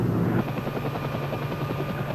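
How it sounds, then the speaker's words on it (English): An Army military helicopter drones steadily, its rotor giving a fast rhythmic chop over a low engine rumble, loud and close throughout. "By helicopter"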